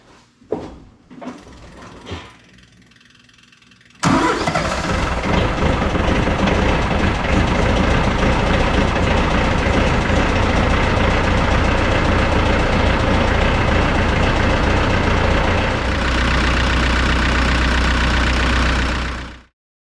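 A Branson 3725h compact tractor's diesel engine starts after a few clunks and settles into a loud, steady idle close by, with a lower, heavier rumble near the end before it cuts off.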